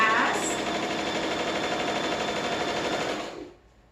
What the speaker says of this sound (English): We're gonna start by sewing. We're gonna do the longest side first.